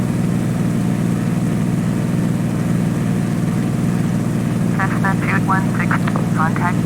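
A light propeller aircraft cruises over Glacier Bay with its engine RPM pulled back, a loud, steady, close droning hum that fills the cabin throughout, with brief radio or intercom voices near the end.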